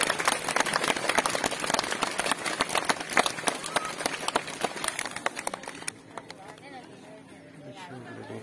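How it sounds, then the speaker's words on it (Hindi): Audience applause at a school enrollment drive event, loud, dense clapping from the gathered crowd that gradually thins and fades, with voices talking underneath and continuing after the clapping dies down. "दरखास्त है कि तालियों की गूंज से"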